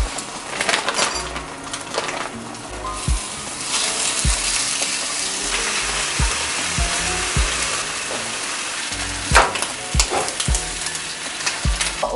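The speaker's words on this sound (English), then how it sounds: "I'm gonna cook 3 turkey bacons." Three strips of turkey bacon frying in a pan, a loud close sputtering sizzle with sharp pops and intermittent clanks of a utensil against the pan.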